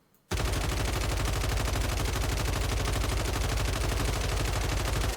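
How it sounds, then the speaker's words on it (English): Continuous automatic gunfire in Call of Duty Warzone, sprayed at a window without controlling recoil: one rapid, evenly spaced burst of loud shots that starts abruptly and carries on for about five seconds. "what you're going to do is just shoot this window and not control the recoil at all"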